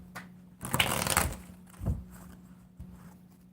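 Gilded Royal tarot cards riffled and shuffled by hand in a short burst, followed by a couple of soft taps of the deck, close and fairly quiet over a low steady hum.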